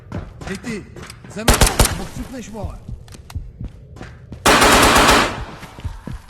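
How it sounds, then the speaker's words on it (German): Rapid automatic gunfire in the game Ghosts of Tabor, loud close bursts emptying a magazine, with a long final burst near the end and someone talking in between. "War nicht fertig geladen, habe ich eben genau leer geschossen."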